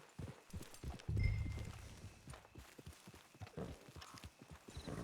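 A horse's hooves clip-clopping at a walk in Red Dead Redemption Online, a close steady rhythm of hoofbeats with a brief low snort or whinny early on.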